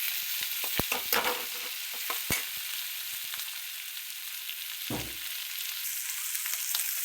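Green chilies frying in oil in a home kitchen, a faint, steady sizzle with a few sharp clicks and scrapes of stirring, no voices.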